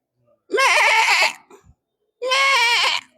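A man imitates a baby goat, giving two long, wavering bleats with a pause between them, close and loud.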